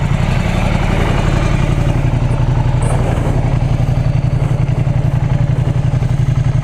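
Ducati X-Diavel twin-cylinder engine pulsing with a loud, rapid, even throb, heard up close from the rider's seat, steady throughout with no talk.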